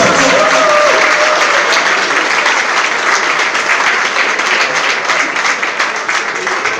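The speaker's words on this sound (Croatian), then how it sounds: "jedan veliki aplauz" Loud, sustained audience applause at a live folk music concert, dense clapping from a large crowd filling the whole stretch without a break.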